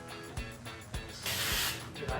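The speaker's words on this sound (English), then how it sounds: "I'm spraying and lifting and spraying and lifting and spraying and lifting." Several short bursts of hairspray hissing close by while styling curly hair, with a long sustained spray near the end and low thumps between.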